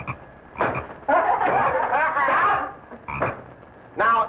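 A frog croaks in loud, raspy bursts, a short one, a long rattling stretch and two more short calls, close and clear with no talking.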